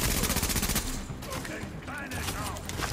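Rapid automatic gunfire from The Division video game hammers out in a dense burst, then gives way to scattered shots and a voice speaking over the game.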